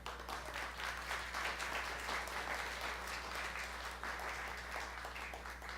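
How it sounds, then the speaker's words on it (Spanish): Church congregation applauding during a sermon, a continuous, even wash of many hands clapping over a steady low hum, moderately distant and unbroken throughout. "Dale un aplauso al Señor."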